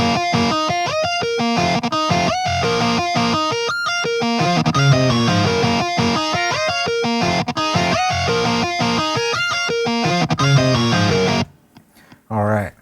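Electric guitar part for a song, a dense distorted riff with choppy rhythmic stabs and layered sustained tones, loud and continuous, then abruptly cutting off near the end.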